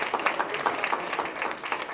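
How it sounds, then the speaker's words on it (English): Audience clapping at a Greene County Tea Party candidates meeting, a couple of seconds of moderately loud, slightly uneven applause from a modest crowd in a hall. "Please give them a round of applause."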